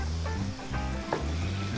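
Oil sizzles steadily in a hot wok while catfish stir-fried with chili paste is tossed and stirred, with a few metallic scrapes and clinks over the continuous frying hiss.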